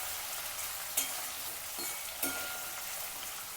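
Tomatoes tipped into a hot frying pan for a sprouted horse gram curry, sizzling as a steady close hiss, with two short bright spatters as pieces land or get stirred.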